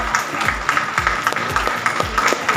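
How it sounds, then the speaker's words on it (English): An audience at a school merit award ceremony claps for the students, a loud, close burst of applause with distinct rhythmic thumps running under the steady patter. "Dear audience, please clap."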